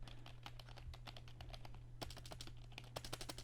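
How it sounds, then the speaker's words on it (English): Rapid, uneven clicking of computer keys, quiet and close, picked up by a Tonor TC-777 USB microphone, with a few sharper bursts of keystrokes partway through over a steady low hum. "We're typing to see if you hear any sounds of typing in the keyboard."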